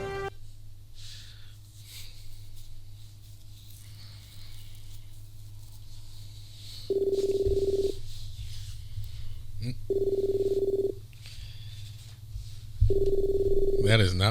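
Phone ringtone sounding in three short bursts of steady electronic tone, each about a second long and separated by pauses, over quiet background hum and a voice talking.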